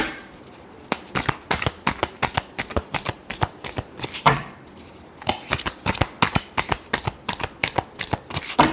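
Tarot cards shuffled by hand in a quick, crisp run of riffling bursts, fairly close and steady in rhythm with brief pauses between passes, no talking.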